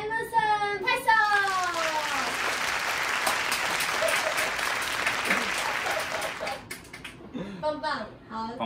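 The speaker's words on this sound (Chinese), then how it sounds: "拍手" A small group claps for a few seconds after a casual iPad Pro unboxing at home, the applause dense and steady, with a voice and other chatter over the top near the start and end.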